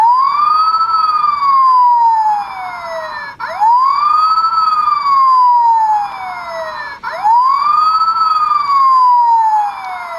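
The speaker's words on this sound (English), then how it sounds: "So we heard the siren." A Transformers Super Class Optimus Prime toy's light bar blares an electronic police-style siren, three loud repeating wails rising then falling, crisp and alone.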